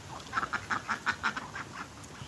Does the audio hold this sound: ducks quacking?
yes